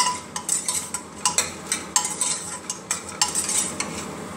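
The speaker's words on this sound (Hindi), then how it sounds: "एकदम धीमी आंच पे बड़ी को तलना चाहिए" Urad dal bari frying in oil over a very low flame, a soft continuous sizzle broken by repeated clinks and scrapes of a utensil stirring the pan, with no talking.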